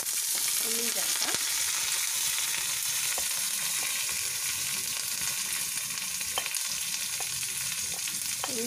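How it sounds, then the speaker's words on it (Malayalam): Green chilies and onion frying in a pan, a steady broadband sizzle with occasional stirring scrapes and clinks, close and continuous throughout with no talk. "ഇനി നമുക്ക് പച്ചമുളകും ഉള്ളിയും ചേർക്കാം."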